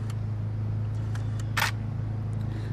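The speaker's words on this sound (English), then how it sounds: "now I just took a picture of the screen" Nikon D850 camera fires its shutter once, a brief crisp mechanical click standing out over a steady low hum in the surroundings.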